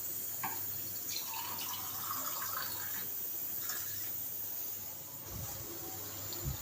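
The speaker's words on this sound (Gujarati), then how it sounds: "મસાલામાં પાણી ઉમેરવાનું છે 1 કપ." A cup of water is poured into spice masala in a home kitchen to make a paste, a soft, splashy pour heard against steady background hiss.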